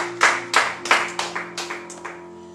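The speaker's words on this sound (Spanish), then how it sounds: "Den un aplauso al Señor." Several sharp hand claps ring out in quick succession in a church, about eight claps slowing and fading over a couple of seconds, with a steady low organ-like hum underneath.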